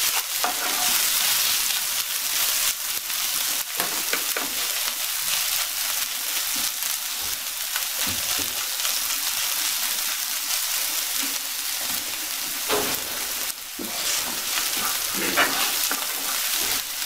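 Ginger, garlic and fennel fry in a pan for a cauliflower paratha filling, a dense, steady sizzle close by with occasional stirring scrapes and knocks.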